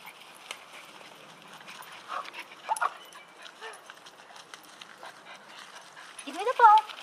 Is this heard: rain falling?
no